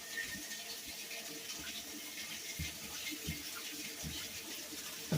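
Water running steadily into a used washing machine as it fills, a soft continuous rushing with faint knocks, fairly quiet and alone without talk.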